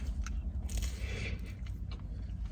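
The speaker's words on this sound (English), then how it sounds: "Lars is chewing on plastic." Lars the pet gnaws on a piece of plastic, giving close, steady crunching and biting clicks over a low rumbling background, with the gnawing continuing throughout.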